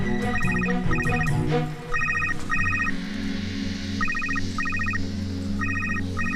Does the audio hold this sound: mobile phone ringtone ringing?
yes